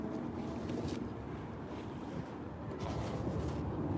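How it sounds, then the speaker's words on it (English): Strong wind blowing outdoors, a low continuous rumble buffeting the microphone at a steady level with faint gusty swells and no talking. "Man, it's so windy out here."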